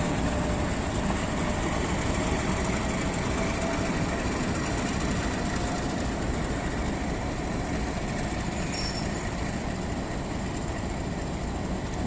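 Hazara Express train shunting at a station, a steady close rumble of rolling coaches and idling locomotive with faint clickety-clack continuing throughout, no voices.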